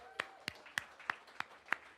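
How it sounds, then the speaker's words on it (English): Faint, evenly spaced hand claps, about six sharp slaps in quick steady rhythm, come from a small audience with almost no other sound around them. "Can I get a round of applause for you guys?"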